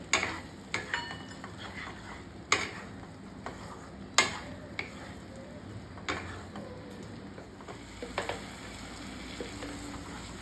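Semolina halwa being stirred in a pan with fried cashews and raisins, soft continuous scraping and sizzle close by, punctuated by several light clicks of the spoon against the pan.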